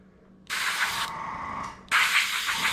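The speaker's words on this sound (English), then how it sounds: "Give it a pretty generous spray down there, give it a little bit of color." Two close bursts of spray paint hiss from an aerosol can onto a taxidermy shoulder mount, separated by a short pause with a fainter hiss between them.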